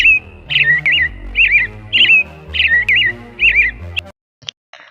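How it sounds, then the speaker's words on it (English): Cartoon birds sing in an animated retelling of The Hare and the Tortoise, a loud, close series of bright chirping whistles in a regular repeating rhythm over a gentle musical backing that drops away near the end. "And the birds would sing beautiful songs."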